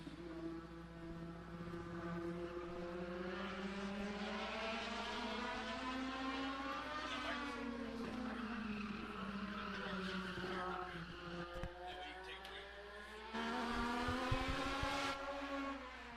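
Legends Series race car lapping in qualifying at Madera Speedway, a loud engine whine rising and falling steadily over a long pass with some rougher bursts near the end, with no talk.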